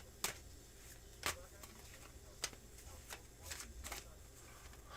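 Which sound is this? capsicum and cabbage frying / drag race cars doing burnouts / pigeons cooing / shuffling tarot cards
shuffling tarot cards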